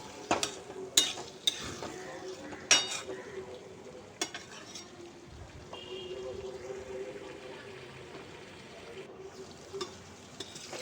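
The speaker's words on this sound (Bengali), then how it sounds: "আলু আর পটলটাকে দিয়ে পেঁয়াজের সঙ্গে খুব ভালো করে আবারও কষিয়ে নেব।" Fried potatoes and pointed gourd being stir-fried with onions in a pan, a soft sizzle under repeated scraping and clinking of a spatula against metal, with occasional sharp knocks.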